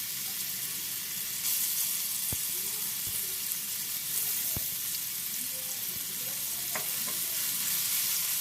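Beet paste cooking with milk and black cumin in a pan, stirred to dry it out: a steady low sizzle with occasional utensil clicks, fairly faint and without talk.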